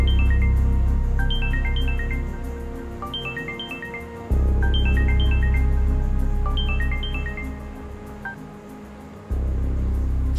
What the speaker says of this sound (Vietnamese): Sao không nghe điện thoại đi?